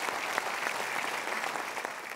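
A studio audience at a motivational talk show bursts into continuous applause, fairly soft and even, a brief spell of many hands clapping together.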